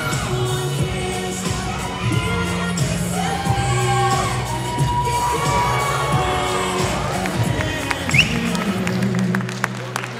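A bodybuilding contest audience at the 2017 Musclemania Paris cheers and shouts for a competitor. The sustained crowd roar, whoops and scattered applause fill the hall.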